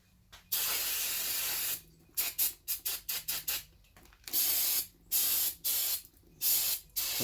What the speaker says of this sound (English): When I say carb cleaner, I actually mean brake cleaner.